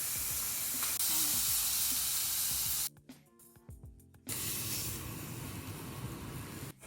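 Flank steak sizzles loudly in a hot pan, a dense spraying hiss that drops briefly during the flip and then surges back up.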